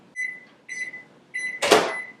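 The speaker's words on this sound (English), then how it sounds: "So I'm gonna melt this in the microwave real quick." A microwave oven beeps three times in short steady tones while melting an ingredient for vegan granola breakfast cookies, then its door clunks open with a loud thud.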